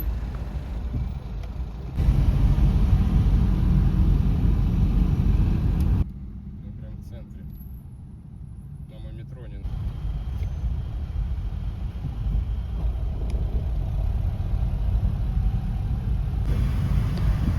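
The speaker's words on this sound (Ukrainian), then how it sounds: "І знову стоїмо у заторі." Cars idle in a traffic jam near Paris, a low steady engine rumble with wind buffeting, one muffled quieter stretch midway, and someone speaking over it.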